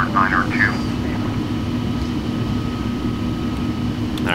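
An airliner engine drones steadily in flight in the Flight Simulator X game while the plane climbs at about 8,000 feet. A constant low hum runs under a person's talking.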